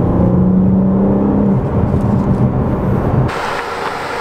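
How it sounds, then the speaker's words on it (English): Busy road traffic heard from inside a 2021 BMW M4 Competition, a loud rushing roar of passing vehicles with a droning whir that drops off abruptly near the end. "There's so much traffic!"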